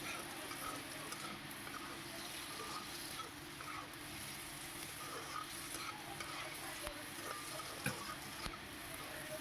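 Potatoes fry in a pan with salt while being stirred, giving a steady, soft sizzle with faint scraping throughout and no voices.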